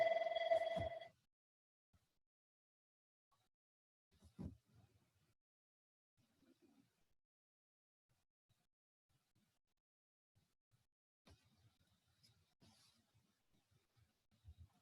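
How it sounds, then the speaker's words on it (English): A phone rings in one short burst at the very start, then everything falls quiet except faint scattered background sounds. "I apologize for my phone ringing"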